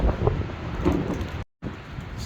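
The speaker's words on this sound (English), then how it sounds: "wind picks up and then it drops down, it picks up and then it drops down" Wind gusting during a storm, a rough, blustery rush against the microphone that swells and eases, broken by a momentary dropout, with no speech.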